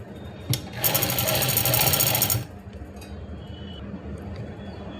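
A sewing machine stitches a belt with plates attached, a loud rapid mechanical whir for about two seconds that then stops, leaving quiet room sound.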